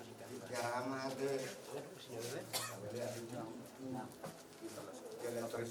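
Birds coo softly in a steady low warble, pigeon- or dove-like, partly under someone talking nearby.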